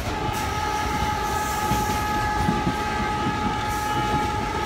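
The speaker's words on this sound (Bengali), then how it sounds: "ঝুকঝুক শব্দের সাথে জার্নি করে আসলে অনেক মজা লাগে" Train running on rails during a journey in Faridpur, Bangladesh, a steady close rumble and rattle with no voices over it.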